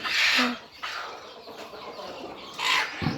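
Farm chickens cluck and squawk nearby in two louder bursts separated by quieter rustling and low background clucking.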